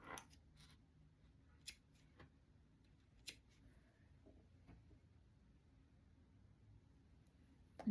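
A few faint, sharp snips of small scissors trimming excess thread ends on a handmade bunny and chick toy, sparse and quiet over a low background hum, with no speech.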